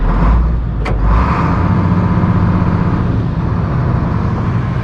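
An engine idles steadily and close by, giving a continuous low rumble with little change, broken only by a brief clank near the start.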